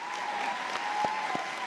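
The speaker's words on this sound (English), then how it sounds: "Can we give them a round of applause as they go to their seats?" Convocation audience in a large hall applauds faculty heading to their seats, a steady, even wash of clapping, with a couple of soft thumps standing out briefly, no voices.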